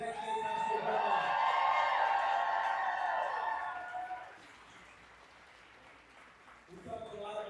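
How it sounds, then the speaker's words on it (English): Audience applause with cheering for the Jack Diggs High School drum line at a Texas campaign kickoff rally in Harris County, loud and sustained for about four seconds, then fading into quieter crowd noise before voices pick up again. "One more big round of applause for the Jack Diggs High School drum line."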